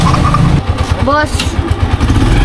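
A motorcycle tricycle engine runs close and loud with a steady low throbbing pulse throughout, while a person talks over it.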